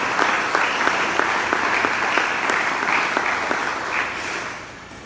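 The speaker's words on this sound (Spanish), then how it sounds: "Damos fuertes aplausos a la gloria de nuestro Dios" A church congregation clapping together in a fairly rhythmic, sustained round of applause that fills the room for several seconds before tapering off near the end.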